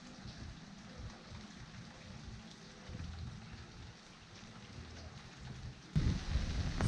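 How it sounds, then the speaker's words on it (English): Steady rain falls outdoors at a botanical garden on Nevis, a soft continuous wash with a low rumble that grows heavier near the end. "It's raining."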